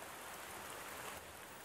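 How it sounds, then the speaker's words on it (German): Steady cartoon rain pours down in an animated children's show, a soft continuous hiss of falling drops with no talking over it. "Es regnet so doll."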